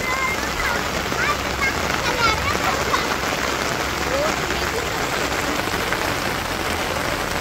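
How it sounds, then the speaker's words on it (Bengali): Heavy rain pours over a village in a dense, unbroken hiss, loud and close, with faint chirps threaded through the downpour. "তো মোটামুটি অনেক সুন্দর বৃষ্টি হইতেছে।"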